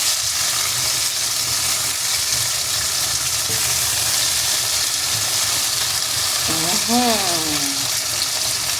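Shrimp sizzle and fry steadily in oyster sauce as they are stirred in a hot pan, a dense, loud, continuous crackle up close, with a brief rising-falling squeal near the end.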